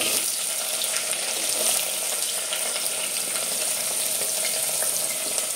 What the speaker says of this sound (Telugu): శనగబాళ్ళు వేసుకొని అన్నీ వేగనివ్వాలి.